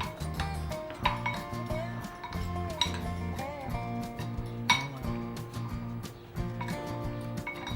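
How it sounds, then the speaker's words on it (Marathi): Spoon clinks and scrapes against a bowl while cumin powder, chaat masala and chili powder are mixed together, a repeated irregular clatter of close metal-on-dish taps with no talking. "जिरे पावडर, चाट मसाला आणि तिखट हे मिक्स करून घेऊ आपण।"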